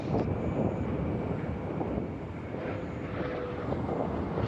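Space Shuttle Atlantis rolling down the runway after main gear touchdown, with its drag chute deployed: a broad, steady roar of rushing air and rumble, heard from a distance at even loudness.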